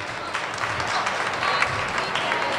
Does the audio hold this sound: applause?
yes